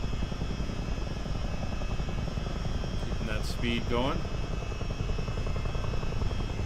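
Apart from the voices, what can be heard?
CH-47D Chinook helicopter flying in a flight simulator video game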